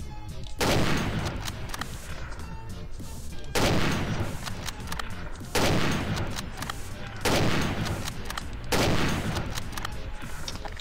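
Video game gunfire in repeated heavy bursts, five loud sustained volleys of rapid shots at regular intervals, close and harsh, with faint game noise between them.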